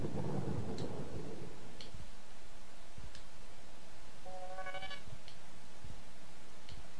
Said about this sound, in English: I do not want more fucking lightning.